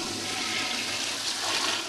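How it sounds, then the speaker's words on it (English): Toilets in a theater restroom flush together, a broad steady rushing and gurgling of water that swells slightly toward the end, with no voices. "all of the toilets flushed"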